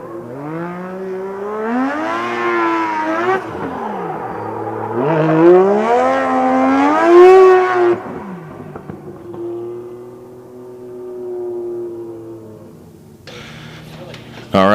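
A Mazda MX-5 drift car on a qualifying run rises and falls in pitch as the engine revs hard, then holds a steadier drone before a sharp burst at the end, loud and continuous under an announcer's commentary.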